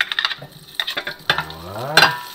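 Garlic is fried in a little oil in a pan. A close, crackling sizzle runs under quick spoon-stirring scrapes and clinks, and a louder scrape comes near the end.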